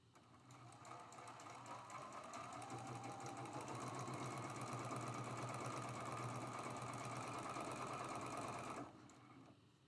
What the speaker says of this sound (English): We're going to sew this seam right down the middle with a 1/4 inch seam allowance.